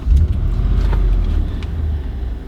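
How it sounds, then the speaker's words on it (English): A car's engine turns over and catches, settling into a loud low idle rumble close by, with no talking. "I'm going to start the car."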